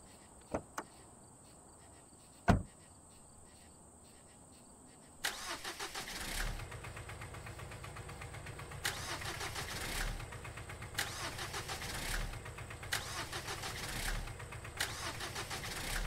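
A car engine in a horror video game fails to start, after a few sharp clicks: the starter cranks repeatedly in steady, rhythmic bursts over a constant chirping of crickets, and the engine never catches.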